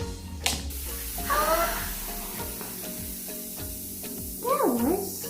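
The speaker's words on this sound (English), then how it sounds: "Look how it fizz with the soap in there." Baking soda mixed with soap fizzes and crackles in a steady hiss, with faint squeaky tones and a voice briefly over it.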